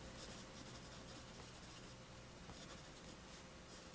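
A Jinhao 995 Swan fountain pen with a fine steel nib writing on paper, giving a quiet, steady, soft scratching that continues alone and close throughout.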